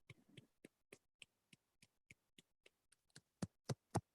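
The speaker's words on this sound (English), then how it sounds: "And I can hear clapping." Light clapping from a small online audience, sparse separate claps at first and then a few louder, quicker claps near the end, all in otherwise near silence.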